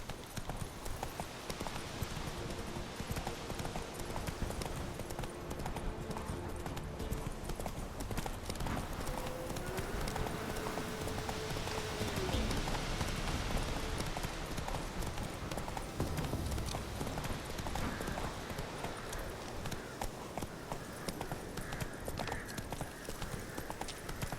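Steady clip-clop of a horse galloping on a road in the video game The Witcher 3, continuous hoofbeats running throughout at an even volume with occasional faint game ambience, no talking.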